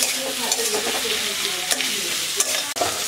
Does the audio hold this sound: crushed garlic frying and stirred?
yes